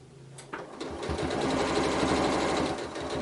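A sewing machine stitching a fabric door stopper, starting after a moment and building into a loud, steady, rapid rhythmic whir, close by with no talk.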